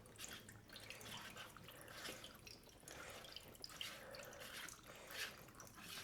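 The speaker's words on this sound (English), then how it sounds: "there goes the water." Dirty water drains out of the opened drain filter of a Whirlpool Duet front-load washer that shows an F21 error, a faint, steady trickle and drip with quiet splashing.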